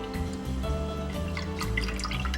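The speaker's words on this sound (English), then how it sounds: "So into the pot goes our milk." Milk poured into a cooking pot to make homemade paneer, a steady liquid pour with dripping and splashing that runs close and fairly loud for the whole stretch, over a low steady background hum.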